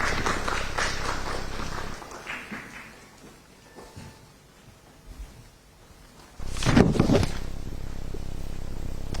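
Audience at a public forum on media and democracy in Ghana applauding to welcome a speaker, clapping that fades to a quieter stretch and then swells loudly again near the end.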